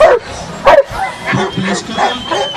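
During a protection-dog demonstration in Stara Zagora, a dog gives loud, sharp barks and short yips, the first ones close together, while someone talks over them.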